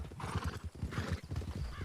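Horse hooves clip-clop in a quick rhythm close by, with a brief whinny over the top, in a Wild West roleplay video game.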